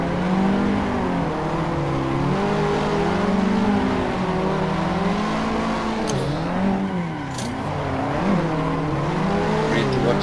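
Cars drifting in a video game, tandem style, with engines revving and wavering continuously and tires squealing, loud and close throughout, while a voice talks over it.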